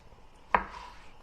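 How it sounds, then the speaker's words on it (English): A knife slices through tomatoes on a cutting board, a single crisp chop standing out over a faint steady kitchen hum. "get a few more of these tomatoes on here and slice them up"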